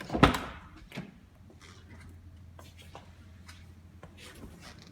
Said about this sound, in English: I'll open the door so you can see the inside from this side.